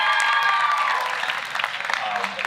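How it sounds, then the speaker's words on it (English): Steady, dense applause from an audience at a fall sports awards dinner honoring tennis player Stephanie Landaverde. Continuous clapping fills the room throughout, with faint crowd voices underneath. "give her a round of applause"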